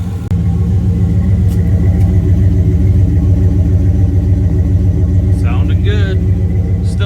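The newly installed engine in a Turbo Diplomat car idles loud and close, a steady throbbing rumble with brief, quieter noises over it near the end.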